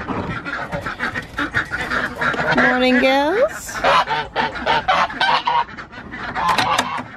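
Geese honk loudly and close by at morning feeding time on a farm, with a rising honk standing out over busy fowl calls and possible quacking, while a person talks nearby.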